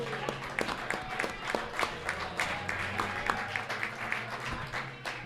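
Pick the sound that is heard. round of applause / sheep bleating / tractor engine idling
round of applause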